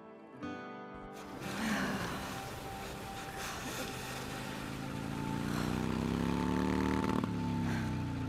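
Motorcycle engine in the video game Days Gone: a steady, rough engine drone that swells and climbs in pitch toward the end, fairly close and loud, with no talk over it.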